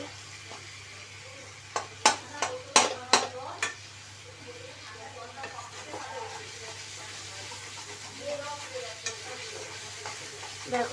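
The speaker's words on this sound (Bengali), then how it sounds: "তো দেখো একটু একটু পিষে দেবো টমেটোটা" Tomato is mashed and stirred in a frying pan for a chicken makhni base, with a spoon scraping and clacking sharply against the pan in a quick burst of strokes over a soft sizzle, then quieter stirring.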